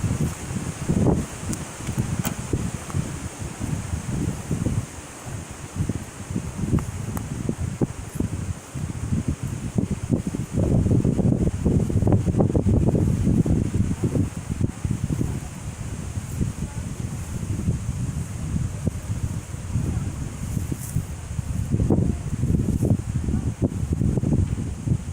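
Wind gusts through a cemetery, rustling leaves in uneven waves that swell and fade, with rough wind buffeting on the microphone throughout.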